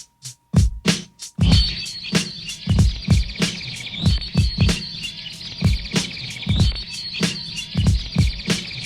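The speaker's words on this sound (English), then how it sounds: "Let's add some birds." Chirping bird sound effect layered over a hip hop drum beat, with rhythmic kick and snare hits and bright repeating tweets running steadily throughout.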